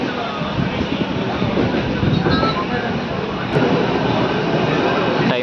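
An Amrit Bharat Express train gives off a steady, dense rolling roar and rail rumble throughout, with faint voices mixed in.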